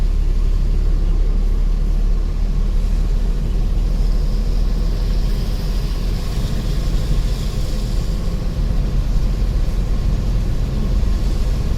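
A five-gear manual car's engine drones steadily during a driving lesson, a loud constant low rumble and road noise from inside the cabin throughout.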